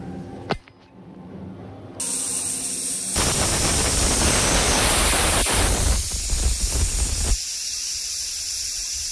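A pressure cooker vents steam over high gas while cooking chole masala, a loud broadband hiss that surges after a short quiet stretch, holds strong for several seconds, then drops back to a lower rush.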